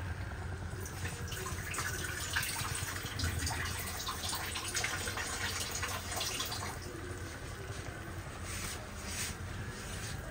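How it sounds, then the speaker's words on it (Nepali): Water runs steadily into a cooking pot of gundruk and egg with cornmeal, a continuous close splashing pour that lasts the whole stretch with no talk. "पानी अलिक कम हालिदिन्छु"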